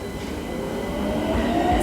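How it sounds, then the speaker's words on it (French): Old-style orange iron metro-type train with 1920s wooden bench seats running steadily, a close, continuous low rumble of wheels and carriage building slightly louder toward the end, with no talking. "Ça fait un bruit que je pense que vous allez reconnaître parce que ça ressemble au métro parisien."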